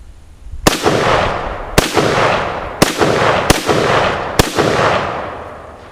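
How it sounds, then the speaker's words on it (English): Five sharp, loud gunshots from a 1953 Tula SKS rifle firing original ammunition ring out at irregular intervals about a second apart, each followed by a rolling outdoor echo, close and with no talk. "fire off the last 5 rounds I have of this original SKS ammunition"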